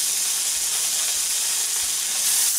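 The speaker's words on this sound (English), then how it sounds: "Throw it in a frying pan." Homemade bacon sizzles in a frying pan, a steady close hiss and crackle of fat with no talking.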